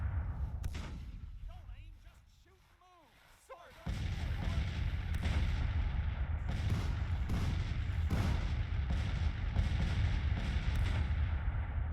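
Civil War-era cannons firing in the strategy game Grand Tactician at the Battle of Bentonville, a continuous rumbling barrage of booms and thuds that swells after a quieter stretch, with a voice talking over the opening seconds.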